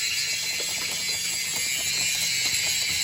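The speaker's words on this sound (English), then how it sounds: "So we'll take these nuts off and put the tie back on." A ratchet wrench turning nuts off a Suzuki quad bike, a loud, close, continuous fast clicking of the pawl running unbroken for the whole stretch.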